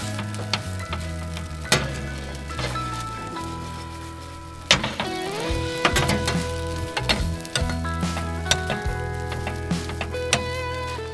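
Food sizzles in a pan at a campsite, a continuous close hiss and crackle punctuated by sharp clicks and metallic knocks from the pan, with a low background hum and no talking.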